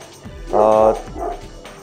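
Šarplaninac-type molosser puppies yip and bark a few times in quick succession, close by, with a brief whimpering tone between the louder yelps.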